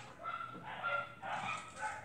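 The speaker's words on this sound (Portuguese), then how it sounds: "Esses daqui latem muita coisa." Two dogs barking somewhere away from the microphone, a few quick yapping barks in succession at moderate, slightly distant loudness.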